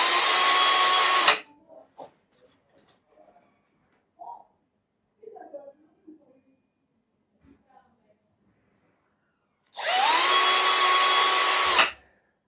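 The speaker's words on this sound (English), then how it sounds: "I'm just going to put a little bit of a hole at the centre of each of these dowels." An electric drill bores pilot holes into the centres of wooden dowels in two short, loud whirring bursts at the start and end, with quiet handling clicks and taps between them.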